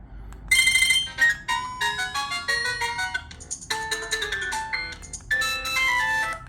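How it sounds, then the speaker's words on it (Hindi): A bright, tinny electronic melody of quick synthesized notes plays loudly and close, a ringtone from an itel Signal 10 feature phone. "चार रिंगटोन है जी, इससे ज़्यादा नहीं है।"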